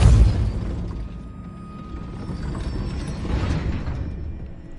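A Depulso spell cast in Hogwarts Legacy sets off a loud, boomy burst at the start, then a rumbling magical wash that swells again near the end.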